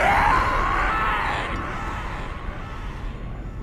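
Darth Maul on his hands and knees screaming in Star Wars Battlefront 2, a loud drawn-out anguished yell that starts strong and slowly fades into a lingering echoing tail.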